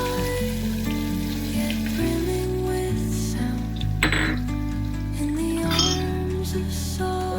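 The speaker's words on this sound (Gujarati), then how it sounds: "જીરું તતરી ગયું છે હવે તેમાં હિંગ અને લાંબી કતરણ કરેલી ડુંગળી આપણે વઘારમાં નાખીશું" Asafoetida and long-sliced onion hit hot oil with spluttered cumin in a tempering for chhole, giving a steady crackling sizzle beneath continuous background music.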